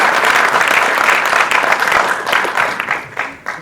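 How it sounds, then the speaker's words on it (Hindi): Audience applause at a tribute event for actor Om Puri, a dense, steady burst of clapping from a large crowd that stays loud for a few seconds before thinning out toward the end. "वो तालियां ओमजी के साथ जरूर पहुंची"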